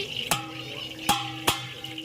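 Whole spices and bay leaf dropped into hot oil in a pan for vegetable biryani, giving three sharp, close crackling bursts over a low steady sizzle.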